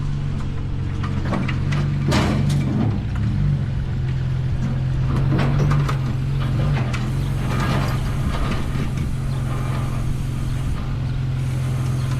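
A ratchet strap being cranked tight to hold a Jeep down on a trailer gives a string of close, clicking ratchet strokes in uneven bursts over a steady low outdoor hum, with no talking.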